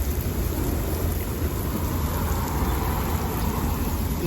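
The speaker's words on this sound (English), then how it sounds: "there's something very soothing about just watering plants" Garden plants being watered with a hose or watering can: a steady, dense rush and patter of water spraying onto leaves and soil, close and continuous throughout.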